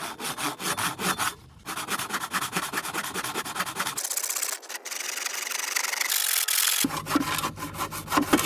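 Bamboo being sawn by hand on a tidal beach, rapid rasping back-and-forth strokes that run steadily and loudly, broken by brief pauses and a few sharper bursts near the end.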